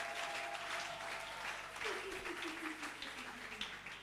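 A church congregation claps and applauds in a fairly distant, steady wash during a Sunday service, with a voice speaking over it.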